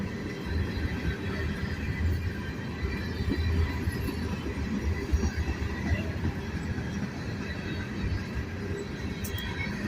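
Canadian National freight train led by an SD70M-2 locomotive rumbles past close by, a loud continuous roar of rolling wagons with squealing wheels and rattling over the full stretch.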